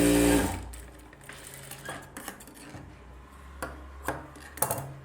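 A sewing machine runs a short stitching burst on folded blouse fabric, then gives a series of light, irregular clicks and taps as the seam is worked by hand.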